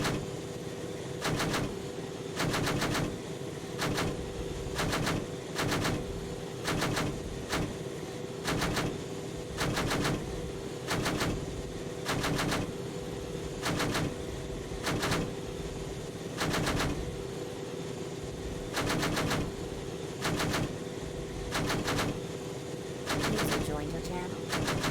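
Bursts of automatic gunfire from weapons in the ARMA 3 military game rattle in rapid repeated volleys over a steady engine drone, continuous and loud throughout.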